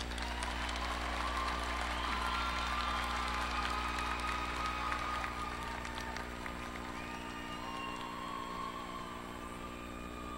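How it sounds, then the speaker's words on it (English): Graduation commencement audience applauding for Communication Science and Disorders candidates, a steady wash of clapping over a constant low hum, moderately distant and sustained throughout. "Let's give them all a big round of applause."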